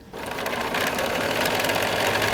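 A sewing machine stitches a quilt block seam, starting up abruptly and running at a steady, close, fast whir with a rapid needle clatter, alone without talk.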